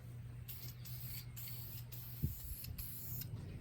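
Spray gun laying a light tack coat of paint on vintage Ford Bronco parts, a quiet hiss in short repeated bursts over a low steady hum, with one soft knock midway.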